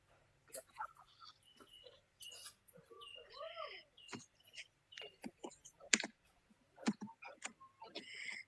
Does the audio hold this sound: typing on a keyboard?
yes